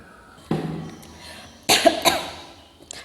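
A young child coughs with a sore throat, several separate hacking coughs in a quiet room, one at the start and a closer cluster of two or three later, then a faint trailing cough.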